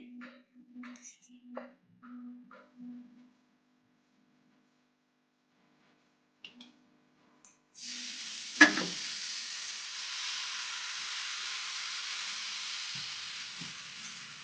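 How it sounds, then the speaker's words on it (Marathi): A sharp sizzle bursts out as a flatbread hits a hot griddle, then a steady hiss of frying carries on. A brief soft clatter comes before it. "अशा पद्धतीने तव्यामध्ये पोळी आपली टाकायची आहे"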